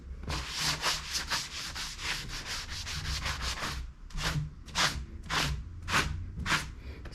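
A mesquite wood slab is sanded by hand, with close, rhythmic scratchy rubbing strokes, quick and dense at first, then slower separate back-and-forth swipes with short pauses between them.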